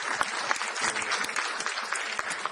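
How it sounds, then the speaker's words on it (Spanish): An audience claps together through a talk, producing dense, continuous applause with many sharp individual claps, fairly close and lively for the whole stretch, no voices standing out. "Gracias a todos ustedes por estar acá y por el aplauso que me brindan."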